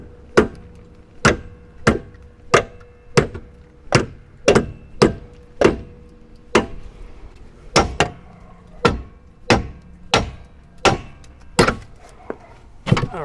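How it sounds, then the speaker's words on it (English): Sharp metallic hammer strikes pounding a rear shock absorber off a car ring out about once per second, a steady series of loud, close blows with short ringing decays. "I'm just going to pound that with the hammer and it should fly right off there"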